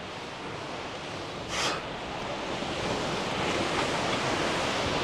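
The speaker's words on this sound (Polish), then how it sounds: "O, ale już tu wali woda." Water pounding and splashing down in a dense, continuous roar, close and loud throughout with a brief gust-like swell near the start, no voices heard.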